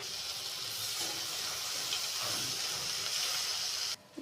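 Bitter gourd stir-frying uncovered in a pan gives off a soft, steady hiss of sizzling oil that carries on evenly before cutting off abruptly near the end.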